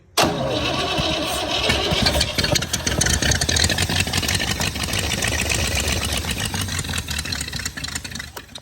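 A 1942 Jeep engine cranks and catches on its first start, then settles into a loud, rough, continuous idle that stays steady for several seconds before easing slightly.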